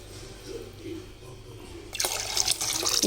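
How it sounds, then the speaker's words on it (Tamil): Water is poured into a pressure cooker holding rice and toor dal, a bright, splashing rush that starts partway through after a quiet stretch and keeps building steadily to the end. "இதுக்கு 5 டம்ளர் நம்ம தண்ணி விட்டுக்கலாம் இது வேக வைக்கிறதுக்கு."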